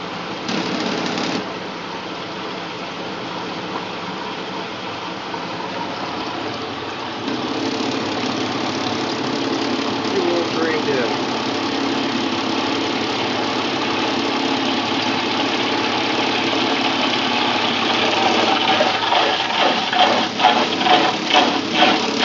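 A small Maytag A50 twin tub washer's spinner runs continuously, a loud steady motor whir with rattling vibration that builds and grows slightly rougher toward the end.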